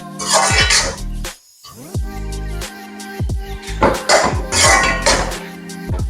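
Beef pickle being stirred continuously in a pan: loud metallic scraping and clanking of a utensil against the pan in irregular bursts, with one brief quiet gap.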